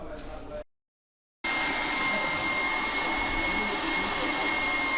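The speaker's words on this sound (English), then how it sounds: "Could just say that Kai Hunter has very kindly let me use his hairdryer." A borrowed hair dryer blows with a steady, loud whooshing hum at a kart racing track in bad weather, cutting out briefly for nearly a second before starting up again and running on evenly.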